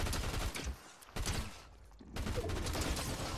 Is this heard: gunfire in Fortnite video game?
yes